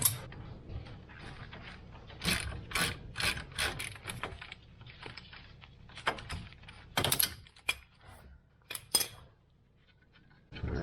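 Close ratchet clicks in short irregular bursts as a bolt on the bottom knuckle of an ATV is loosened, mixed with metallic handling clanks and tool knocks, then a quieter stretch near the end.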